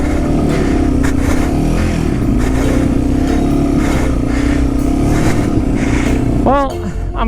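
Yamaha TW200 motorcycle in first gear crawling uphill through a foot of deep snow after a storm, its engine droning loud and steady close by, wind buffeting throughout, a rider's voice over it near the end.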